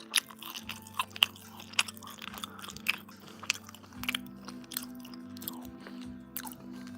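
Close-up chewing of a soft macaron, a run of moist, squishy bites and jaw movements with light crackles over about seven seconds, no speech.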